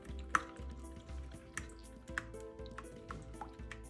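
A spoon stirs amlou, a Moroccan paste of ground almonds, as argan oil goes in, giving soft wet squelches and drips, quiet and close with a few sharper taps.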